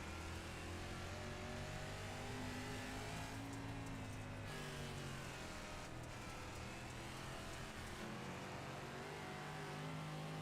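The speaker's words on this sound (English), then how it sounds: "You hear him working the throttle through the slick." On-board sound from a race car at a Friday night short-track race: the engine drones loudly and continuously, its pitch rising and falling as the driver works the throttle through slick conditions.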